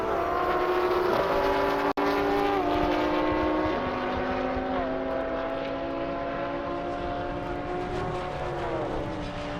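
Audi R8 on a speed run down an airstrip at a roll racing event, a distant engine droning and climbing through stepped gear changes, steady and moderately loud over several seconds with no talk.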